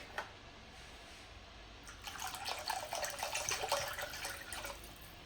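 Milk pours into pancake batter in a steady liquid stream lasting about three seconds, fairly close and quiet, following a small clink, with no talking.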